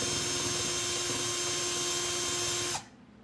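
A steady, loud high-pitched whir of a power drill running continuously for nearly three seconds while making a decorative water hose hook, then cutting off abruptly into near silence.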